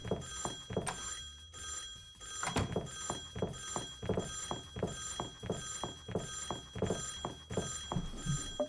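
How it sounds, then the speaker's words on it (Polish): A telephone rings in the video game Sąsiedzi z Piekła Rodem (Neighbours from Hell): a steady electric bell rings repeatedly in an even rhythm, loud and clear with no talk over it. "Wykonujemy telefon."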